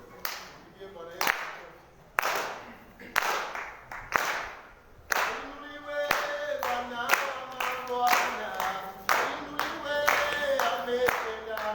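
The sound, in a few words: congregation clapping hands in church service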